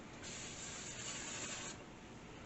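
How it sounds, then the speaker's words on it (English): A steady aerosol hiss of cooking spray for about a second and a half, close and continuous, then cutting off. "We're going to use a cooking spray."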